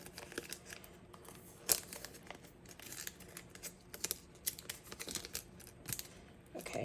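Packaging is ripped and torn open close by in quiet surroundings, giving irregular crinkling, crackling bursts and sharp tearing snaps.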